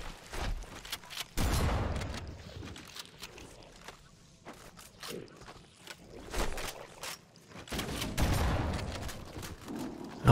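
Bursts of assault rifle fire in the shooter game Halo: CE Anniversary, loud, uneven volleys at roughly two-second intervals with quieter footstep-like movement and rumble in between.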